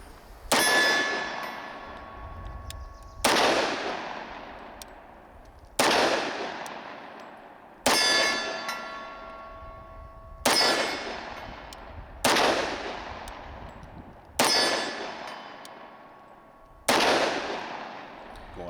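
A SIG Sauer P220 Legion 10mm pistol fires SIG V-Crown self-defense rounds, eight loud, sharp shots at uneven intervals of roughly two to three seconds, each with a bright crack and a ringing tail that fades before the next.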